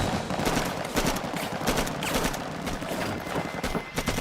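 Loud bursts of rapid gunfire in a firefight with an Iraqi patrol, dense overlapping shots in quick succession filling the whole stretch, close and harsh with no pause.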